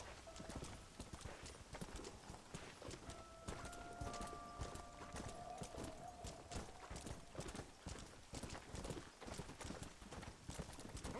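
Horse hooves clip-clop at a steady, fast rhythm in Red Dead Redemption, a continuous run of close hoofbeats with a faint tonal game sound briefly layered in the middle.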